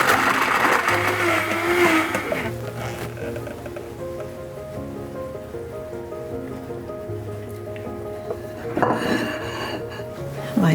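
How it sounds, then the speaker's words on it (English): A blender whirs through mango, dragon fruit and passion fruit in a home kitchen, a steady motor drone with changing pitch and a rattling surge near the end, nearby and fairly loud, without speech. "let's blend."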